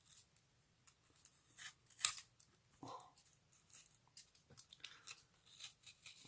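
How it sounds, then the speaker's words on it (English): A blade cuts through a cardboard card box flap in a few short, quiet snips and crunching scrapes, spaced irregularly with brief pauses between them. "Right, so you cut through that flap like that,"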